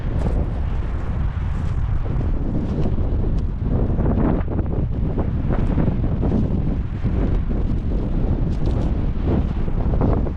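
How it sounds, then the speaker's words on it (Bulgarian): Steady wind blows hard outdoors around a tree on a natural hillside, a constant roaring gusty rush with buffeting against the microphone throughout and no voices. "Чувате вятърът."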